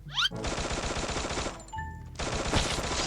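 Automatic gunfire in the shooter game Free Fire, rapid dense bursts with a brief pause and tonal beeps midway before firing resumes, loud and close.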